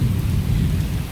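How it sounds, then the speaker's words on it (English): Heavy rain pours down during a thunderstorm on a farm, making a dense, continuous roar with deep rumbling underneath and no voices. "I can't thank God enough for giving us rain."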